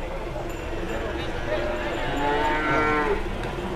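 Cattle mooing at a cattle market in Rogojampi, Banyuwangi, with several drawn-out, tonal moos in the middle of steady crowd and market din, and people talking throughout.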